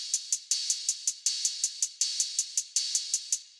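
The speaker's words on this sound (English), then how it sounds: "So the first thing we have here is the hi-hats" Open and closed hi-hats with reverb tick out a steady, bright, rapid pattern, with accented open hits every half second and closed ticks between them, crisp and close with no other sounds.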